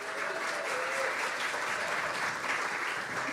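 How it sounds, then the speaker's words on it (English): Audience at the Australian Folk Music Awards 2025 applauding in a steady, even wash of clapping that sounds soft and somewhat distant for a few seconds. "So a huge round of applause for everyone that's been on the stage and all the nominees"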